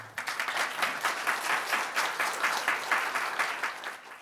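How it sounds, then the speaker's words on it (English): A conference audience applauds a speaker at a furry studies event, with dense clapping that pulses in quick, even waves and holds steady for about four seconds before easing off at the end. "Please give him a huge round of applause."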